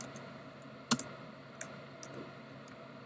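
Soft, sparse clicks of a computer keyboard being typed on, a few distinct keystrokes with one sharper tap, close and quiet with no talking.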